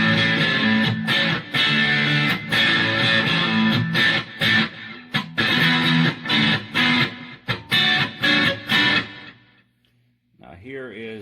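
Electric guitar on its middle single-coil pickup through a Boss DS-1 distortion pedal set to moderate gain: loud, gritty strummed chords in a choppy rhythm with short stops, fading to a quiet tail before a voice speaks.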